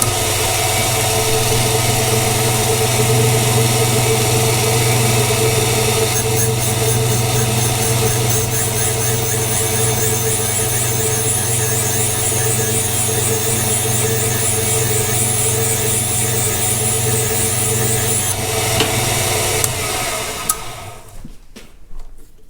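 A Caterpillar D2 engine valve is refaced on a valve grinding machine with freshly dressed stones. A steady motorized whine and grinding drone runs continuously for about twenty seconds, then winds down and stops.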